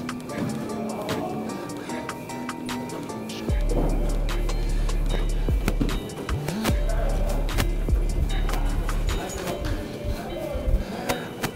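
Exercise bicycle being ridden at a low resistance level, giving a steady mechanical whir and hum with repeated clicks and knocks, running continuously under a person talking nearby.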